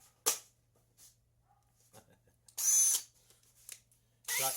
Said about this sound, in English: now we're going to chuck it into the drill